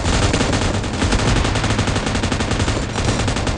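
Rapid automatic gunfire rattles nonstop in a PUBG Mobile match, loud and dense bursts with no pause.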